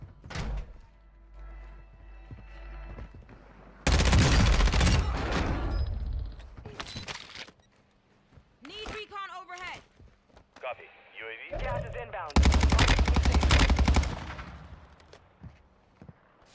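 Bursts of gunfire from the video game Modern Warfare 2, two loud dense volleys separated by quieter shots and scattered game sounds, with a player's voice talking between them.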